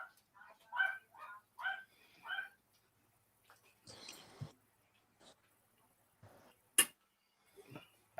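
Several short, honking yaps from a small puppy in a quick series, close by, followed by sparse quieter noises and a sharp click.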